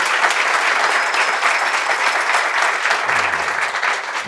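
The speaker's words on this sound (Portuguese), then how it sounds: "primeiro uma salva de palmas para o nosso convidado" Audience at an agribusiness and bioenergy talk applauding a guest, loud dense clapping sustained at even strength from start to finish, close and filling the room.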